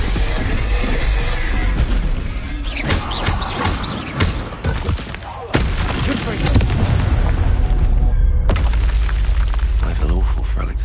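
A Bombarda explosion spell cast in the Hogwarts Legacy video game, loud booming blasts within a dense, constant wash of combat noise, with a sharp hit midway and speech mixed in.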